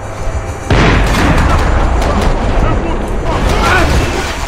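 A grenade goes off in a Max Payne 3 gunfight, a sudden loud boom that erupts after a quieter moment and leaves a sustained rumbling roar with crackling debris, while voices talk underneath.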